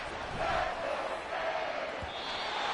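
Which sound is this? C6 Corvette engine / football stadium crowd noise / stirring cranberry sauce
football stadium crowd noise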